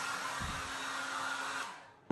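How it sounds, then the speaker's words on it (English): A hair dryer blows steadily at close range on a cactus, with a broad, even whoosh, then cuts off abruptly near the end with a brief click. "So this is working perfect with a hairdryer."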